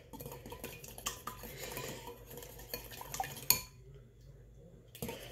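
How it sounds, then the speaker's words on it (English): Eggs whisked in a bowl for a breakfast, heard as quick rhythmic clinks and scrapes of a whisk against the bowl, close and fairly quiet, pausing briefly before starting again. "you gotta keep on whisking so you can get most of it mixed in"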